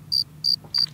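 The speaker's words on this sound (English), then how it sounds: "crickets" A cricket chirping sound effect, three evenly spaced bright chirps followed by a short sharp click, clear and alone over faint low hum.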